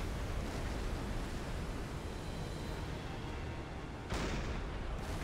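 A submarine deck gun in Silent Hunter 5 fires at a ship, a loud broad rumbling blast heard against constant sea and wind noise, with a sharper burst of fire near the end.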